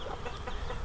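Chicks cheeping in a brooder, a cluster of soft overlapping high peeps against a steady background hum, very short.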